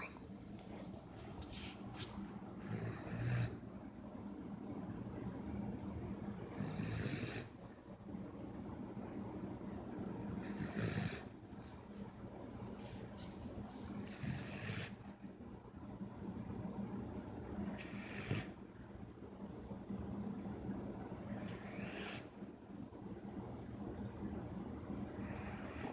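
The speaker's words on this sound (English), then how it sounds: "a funny little video of my dog snoring" A dog snores close by in a slow, regular rhythm of breathy rasping swells, each cycle lasting roughly four seconds across the whole stretch.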